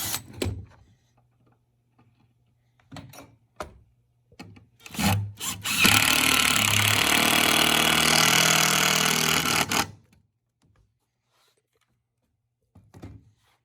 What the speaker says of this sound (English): Drill one hole so we can pivot it.